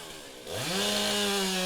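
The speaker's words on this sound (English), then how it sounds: "93cc chainsaw just coming up" A 93cc chainsaw at a women's timbersports championship revs up sharply from idle to a loud, steady high-pitched roar as it begins cutting timber.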